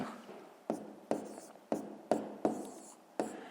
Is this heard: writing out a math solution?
yes